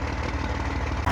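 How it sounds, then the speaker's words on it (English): A Peterbilt truck's diesel engine idles in the cold just after starting, a loud, close, steady low rumble with an even rhythmic chug that continues unbroken throughout. "I knew the old girl would fire up. I mean, it's practically a new engine."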